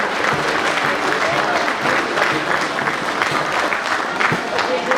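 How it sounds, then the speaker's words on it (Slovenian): Continuous applause from the crowd for majorettes at a spring agricultural fair in Komenda, a dense, steady clapping that fills the whole stretch, with voices mixed in underneath. "Še en aplavz za mažorete."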